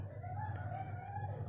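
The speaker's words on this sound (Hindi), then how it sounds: "ये है चिकन यानी मुर्गी" A chicken in the farming game Trader Life Simulator 2 gives a steady, rough clucking call that carries through the whole short moment at moderate loudness, with a low background hum underneath.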